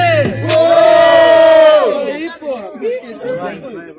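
A loud crowd at a rap battle roars and shouts together, one long cry swelling then breaking into scattered yells and chatter.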